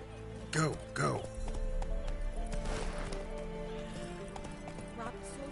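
Roach, the horse in The Witcher, galloping, a rumbling run of hooves that starts after two short voiced shouts and carries on steadily, with game ambience and a faint voice underneath.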